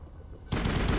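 Gunfire in the video game Mass Effect played on PS5, a sudden dense burst of loud shooting that cuts in halfway and continues steadily to the end after a quiet start.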